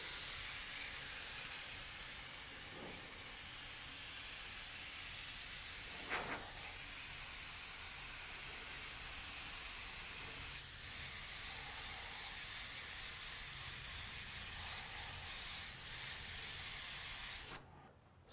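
Airbrush spraying Wicked Opaque Black paint through a 0.35 needle onto a helmet, a steady close airy hiss running continuously with slight swells before cutting off abruptly at the end.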